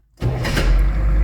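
An M1151 HMMWV with an automatic transmission and a damaged starter ring gear and bendix cranks with a sudden, loud, close mechanical grinding that sets in abruptly and holds steady.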